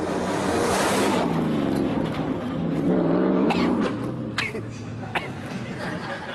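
A Bowler Wildcat off-road supercar drives past with a rough engine drone that rises and then fades, while someone speaks over it.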